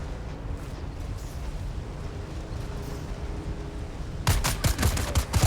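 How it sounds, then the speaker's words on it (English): Gunfire in the video game Dune Awakening: a low steady rumble gives way to a sudden loud fusillade of rapid shots packed closely together over the final second. "I'm getting shot."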